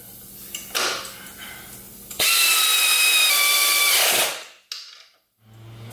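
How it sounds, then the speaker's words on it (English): Air ratchet driving a bolt into a BMW S1000RR track bike, one loud steady pneumatic whir of about two seconds, preceded and followed by quieter handling clatter. "now I'm gonna get my ratchet. My air ratchet, that is."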